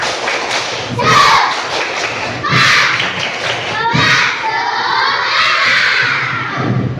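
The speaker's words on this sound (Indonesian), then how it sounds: "1, 2, 3 yang kuat, tepuk semangat" Pupils in a classroom perform a rhythmic spirit clap together, loud group claps and thuds mixed with children's shouts and cheering, with a voice talking over parts of it.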